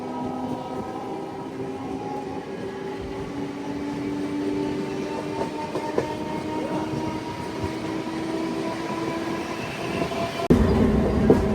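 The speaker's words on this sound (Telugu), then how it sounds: "మలక్పేట్ దాటాక నెక్స్ట్ స్టేషన్లో అయితే ఆగింది మన ట్రైన్, ఆగి బయలుదేరుతుంది" A MEMU passenger train pulls away after stopping at Dabirpura station, with a steady rolling rumble and faint wheel tones holding throughout, then a louder burst of noise near the end.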